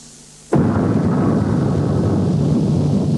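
An atom bomb explosion from 1945 archival documentary footage: a sudden loud blast after brief quiet, then a sustained heavy roar that rumbles on without fading.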